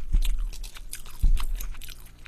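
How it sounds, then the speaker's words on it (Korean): Crunchy baguette topped with pizza-flavored pasta is bitten and chewed up close, with two sharp crunching bites followed by steady crackly chewing and no talking. "이런 바게트를 줬는데 요거는 파스타 위에다 얹어 먹어볼게요"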